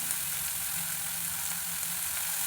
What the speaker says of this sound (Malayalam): ഈ സവാളയും പച്ചമുളക് അരിഞ്ഞതും കൂടെ ചേർത്ത് കൊടുക്കുക. അത് എണ്ണയിലിട്ട് നന്നായിട്ടൊന്ന് വഴറ്റുക.